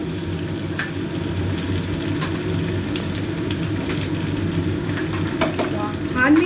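Honey chilli chicken sizzles in a hot pan during a stir fry, a steady loud frying hiss with stirring scrapes throughout and a brief sharper burst near the end.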